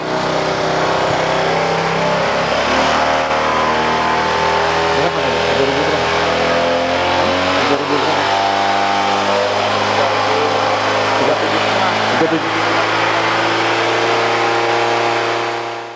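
A loud, close motorcycle with a racing exhaust runs continuously, its revs rising and settling in a steady drone with raspy exhaust, no talking.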